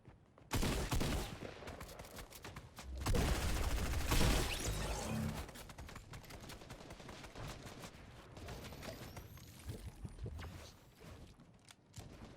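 Rapid gunfire bursts crackle in a Dreamhack solos match of a competitive shooter game, heavy volleys early then thinner scattered shots and clicky mechanisms, no talk.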